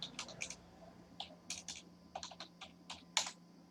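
Quick, light keystrokes on a computer keyboard enter an account number into retail billing software, in short irregular bursts of clicks, close and quiet, with no talking.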